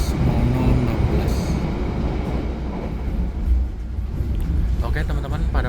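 Turangga panoramic passenger train rolling along the rails at night, a steady loud rumble of wheels and carriage noise throughout, with brief higher squeals near the end and faint voices underneath.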